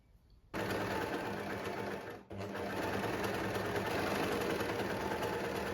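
A sewing machine stitches down the facing on an embellished dress, starting sharply after a quiet moment, dipping briefly near the middle, then running on in a loud, even, rapid whir.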